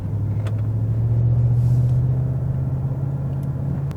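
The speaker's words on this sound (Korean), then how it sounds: "벤틀리의 V8 사운드를 들으며" Deep, steady V8 engine rumble from inside a Bentley Continental GT coupe cabin, a low droning hum holding constant throughout with no talking.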